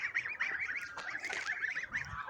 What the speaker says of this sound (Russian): Вот наши гуси.